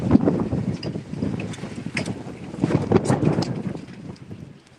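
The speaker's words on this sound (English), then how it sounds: "You can hear just how windy it is there." Strong gusting wind buffets the microphone at an ultramarathon aid station, rumbling and surging unevenly in loud bursts with no other clear sounds.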